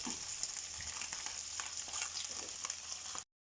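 Steady crackling sizzle of sausages frying in a hot pan, continuous and close, with faint spits and pops, then it cuts off abruptly.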